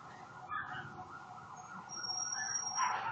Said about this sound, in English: There's some sirens in the background.